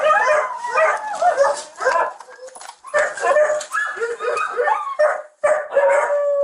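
Several dogs bark, yip and whimper almost continuously during an animal-control rescue of many dogs from a house, close and loud, with overlapping high whines and howl-like cries.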